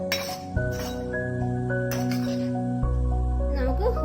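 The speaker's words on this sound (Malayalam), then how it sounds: "ഈ അടപ്പൊന്ന് മാറ്റി ഈ ചീനിക്കിഴങ്ങ് നല്ലതുപോലെ ഒന്ന് ഇളക്കി കൊടുക്കണം" Lid lifted off a pan of sweet potato pieces, with a couple of sharp metallic clinks, then light stirring, close by under a person talking.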